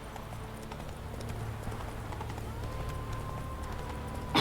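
Roach, the horse in The Witcher 3, moves with steady clip-clopping hoofbeats over a constant low rumble of game ambience, fairly quiet and continuous with no voices.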